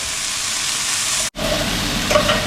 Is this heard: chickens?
no